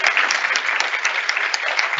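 Audience applauding a departing university president at a formal address, steady dense clapping that fills the room at an even level throughout, with no talk over it.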